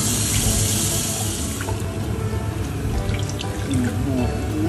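Bitter leaf vegetable is washed by hand in water: steady splashing and running water with sloshing that carries through the whole stretch, close and fairly loud.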